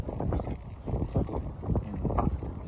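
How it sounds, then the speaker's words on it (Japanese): A 4–5 m/s northwest wind buffets the microphone beside a bass boat, a gusty low rumble that swells and fades in uneven pulses throughout. "この北西4メーター5メーターの爆風の中で"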